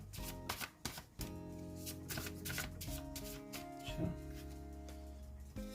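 Tarot cards are shuffled and drawn close by in quick riffling flutters and soft slaps, set against a steady musical background with a voice now and then.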